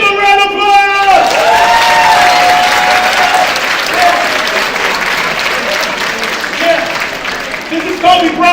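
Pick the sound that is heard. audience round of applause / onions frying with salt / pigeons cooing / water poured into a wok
audience round of applause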